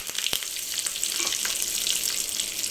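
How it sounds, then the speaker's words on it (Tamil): Steady, close sizzling of black pepper and curry leaves tempering in hot oil with mustard seeds, a continuous crackle with small pops throughout. "இதையும் நல்லா தாளிச்சிக்கலாம்"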